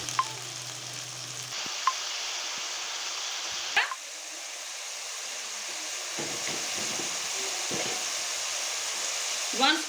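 Garlic ginger paste hits a hot pan for a Punjabi chicken and pea curry, letting out a loud hiss that settles into a steady sizzle, with a few clinks and scraping stirs near the end.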